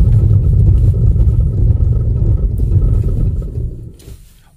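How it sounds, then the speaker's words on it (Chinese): A car brakes hard from 40 km/h on an icy, snowy road, giving a loud, close rumbling road and tyre noise that holds steady for several seconds and then fades out as it stops. "我把车速提到40，现在40了，我来急刹车。"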